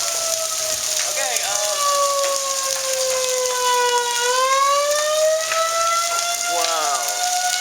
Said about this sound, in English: I just said it, and then the sirens went off.